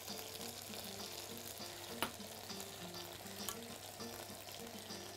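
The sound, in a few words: peas added to a frying pan, sizzling and stirring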